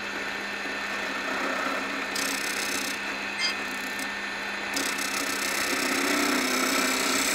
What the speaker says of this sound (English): I'm going to go ahead and turn our lathe back on